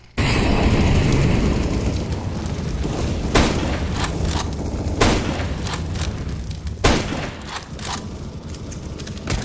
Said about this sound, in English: Throwing flashbang. Grenade.